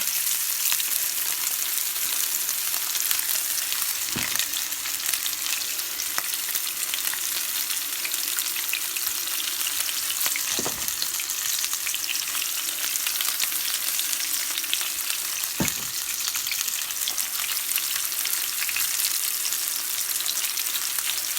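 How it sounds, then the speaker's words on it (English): Pork chops sear in a hot pan with a loud, continuous sizzle that holds steady throughout, broken by a few faint clicks, close and alone. "putting it in the pan, seasoning side down. And my pan is already heating."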